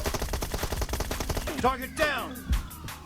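Rapid automatic gunfire from PUBG Mobile rattles in a fast run of sharp bursts for the first half, then a few louder single shots and whooshing ricochet-like sweeps follow, with faint voices underneath.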